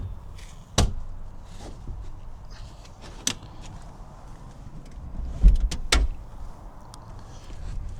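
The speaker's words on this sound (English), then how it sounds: "the backs of them fold down like that and they lock down" Seat backs in a 2013 Suzuki Spacia Custom turbo kei car folding down and latching, heard as several sharp clunks and clicks spaced a few seconds apart over quiet cabin background.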